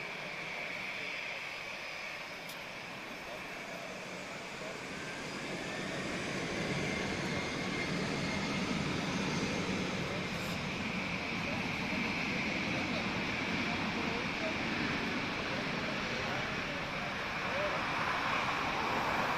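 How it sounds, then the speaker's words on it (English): An Embraer jet airliner with two CF34 engines roars steadily at Lisbon Airport, a broad rushing engine noise that swells and holds loud for many seconds, heard from a distance outdoors. "I do love these Embraers. 2 CF34 engines"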